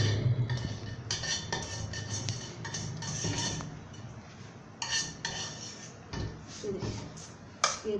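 Metal cookware clinking and scraping as semolina is dished out of a hot kadhai into a pan, with repeated close clanks and irregular rattling taps throughout.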